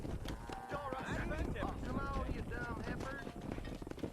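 Horse hooves clip-clop at a steady rhythm while riding in the Red Dead Redemption 2 game, set under game music and someone talking throughout.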